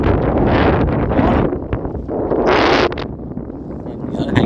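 Strong storm wind buffets the microphone over high flood water, a loud rushing roar that surges and dips in gusts, with a person speaking through it.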